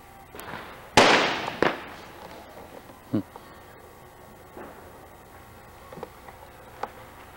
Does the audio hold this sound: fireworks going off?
yes